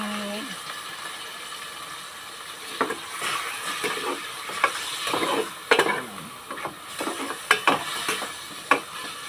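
Half a kilo of pork frying in a pan for Filipino dinuguan, with sizzling under scattered scrapes and clatters of a spatula stirring against the metal, close and moderately loud.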